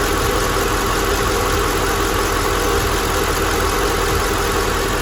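A Mercedes M113 V8 engine, swapped into a W211 E500, idles steadily and loudly up close, a constant low rumble with a faint mechanical knock throughout, no voices.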